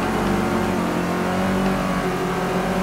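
A Datsun with its stock motor revs hard in the Forza 6 racing game, a steady, loud mid-pitched engine drone holding at high revs throughout with no pauses.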